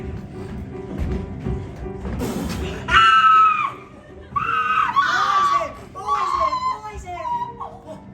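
Mrs. Peacock in the film Clue lets out loud, shrill screams and wails, repeated in several rising, quavering bursts after a stretch of voices talking.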